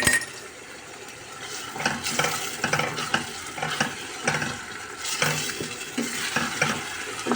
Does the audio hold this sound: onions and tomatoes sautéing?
yes